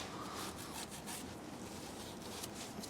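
Steady close scrubbing of corrosion off a part on a Mercedes, a continuous dry rasping rub with quick back-and-forth strokes and no pauses.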